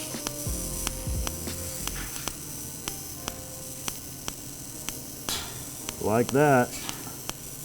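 A small, inexpensive TIG welder in pulse mode gives an arc that crackles and ticks in regular, evenly spaced pulses over a steady hiss, with a brief spoken remark and a short warbling tone near the end.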